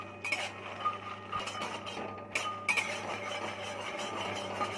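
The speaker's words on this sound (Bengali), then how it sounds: "মাখানাগুলো যতক্ষণ না একটু মুচমুচে হচ্ছে ততক্ষণ আমরা মাখানাগুলো ঘিয়ের মধ্যে একটু নেড়ে" Fried makhana (fox nuts) stirred in ghee in a pan, with scattered light scraping and clinking of a utensil over a steady low background hum, no voices.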